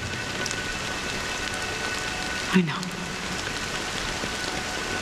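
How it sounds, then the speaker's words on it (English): Steady rain falls in the video game Honkai: Star Rail as a constant hiss with a brief thud partway through, while a voice speaks briefly over it. "But it's still raining."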